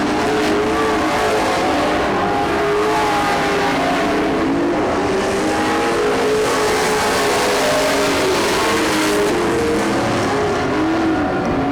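A race car sails into turn 3 with six laps to go in an auto race, its engine a loud, continuous roar that stays up close and unbroken for the whole stretch.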